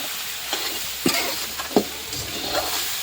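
Jackfruit curry fries in a pan, a faint steady sizzle broken by a few distinct scraping stirs of a spoon, with no talking.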